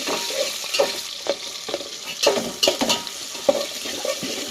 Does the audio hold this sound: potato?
yes